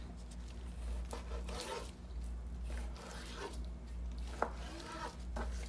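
A knife slices fresh wild-caught salmon into portions with soft, repeated rasping strokes and one sharp tap, close and quiet over a low steady hum, with no talking.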